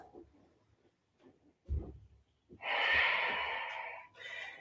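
Heavy breaths during a full-body workout with 5-pound dumbbells: quiet sniffs first, then a long, loud forceful exhale lasting over a second, followed by another shorter breath.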